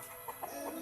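Native labuyo chickens cluck in a few soft, brief calls, faint and close together against a quiet farmyard background.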